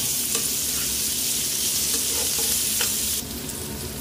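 Chopped onion frying hard in a pan with rice pushed aside, a loud close sizzle broken by a few quick scraping stirs, easing slightly toward the end.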